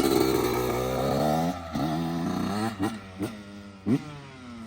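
A 125cc dirt bike engine on a dry hillside fires up and runs, a loud buzzing idle with rising and falling revs and a few sharp throttle blips toward the end.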